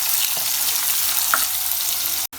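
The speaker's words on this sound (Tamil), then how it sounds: "வெங்காயத்தை நல்லா வதக்கிக்கலாம்" Onions sautéing in a pan for chicken pepper fry, a loud continuous sizzle with occasional spatula taps, cut off abruptly at the end.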